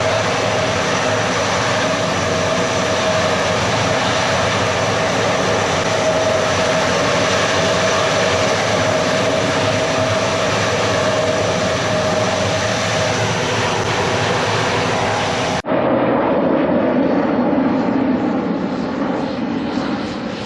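LC-130 aircraft on the Summit Camp skiway in Greenland, a steady broadband engine roar that holds loud and even throughout, shifting abruptly to a slightly different drone near the end.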